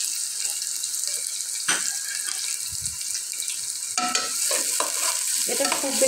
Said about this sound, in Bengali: এরপরে আমি আস্ত মশলা এবং তেজপাতাগুলো এখানে ঢেলে দেব।